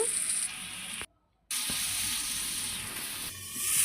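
Potatoes frying in oil with salt and turmeric for a vegetarian aloo dum, giving a steady close hiss and sizzle that cuts out briefly and then resumes with faint kitchen clatter.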